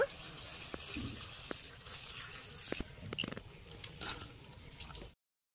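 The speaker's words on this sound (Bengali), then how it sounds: "দিয়ে দিচ্ছি জল, জল দিয়ে ভালো করে ধুয়ে নেব" Chopped vegetables and tomato being washed with water in a kitchen, a steady running-water wash with a few splashes and drips, fairly faint, ending abruptly.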